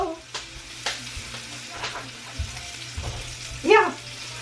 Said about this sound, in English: I think it just tastes a lot better if you first fry up the meat just a little bit to brown it